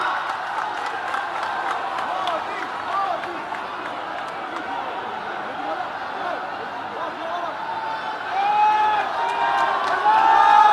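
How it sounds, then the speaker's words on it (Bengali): A large audience at a public reception for India's Prime Minister in Kolkata claps and cheers in a dense, continuous roar of crowd noise that swells louder toward the end. "একবার জোরদার করতালি দিয়ে আপনারা অভিবাদন জানান"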